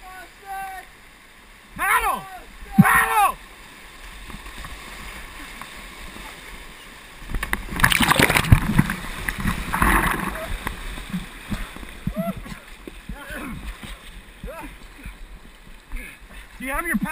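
Two people paddling a canoe: close splashes and a rushing burst of churned water, mixed with excited shouting and talk throughout.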